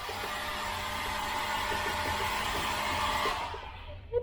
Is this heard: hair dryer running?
yes